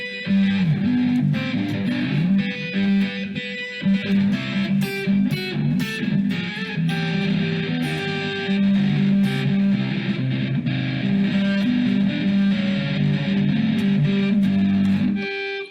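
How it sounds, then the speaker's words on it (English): Electric guitar run through heavy distortion plays a song, a continuous fingerpicked melody with a thick, saturated tone, loud and close, sustained throughout with no talking. "Disrespectful to play it with this much distortion on"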